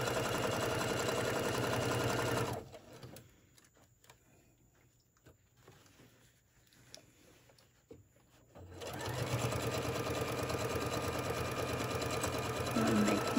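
A sewing machine runs steadily, top-stitching a quarter-inch seam around a fabric Christmas tote, with a pause in the middle before the motor resumes.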